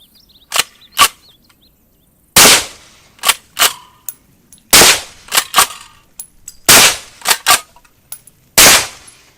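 Suppressed 6.5 Creedmoor shots from a straight-pull rifle with a 22- or 24-inch barrel, fitted with a Radical Firearms Sinter 3D-printed suppressor, fire in rapid succession: about a dozen sharp cracks with brief decaying tails, some in quick pairs.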